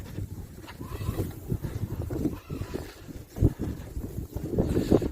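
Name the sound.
strong wind during a snowstorm in Holland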